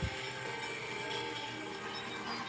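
A toy Christmas train runs along its track with a continuous close rattle and rumble of small wheels and motor, steady throughout.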